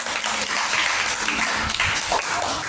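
Schoolchildren in a basic-school maths class clap together in a brief, dense burst of applause that stays steady and fairly loud throughout, with no clear talking.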